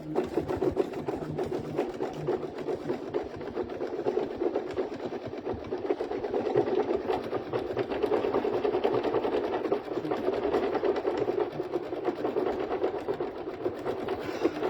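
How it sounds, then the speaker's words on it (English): Embroidery machine stitching a satin outline on turkey wings, a steady, fast mechanical whirring and needle clatter running evenly and close throughout. "this is going to stitch the outside satin on the wings"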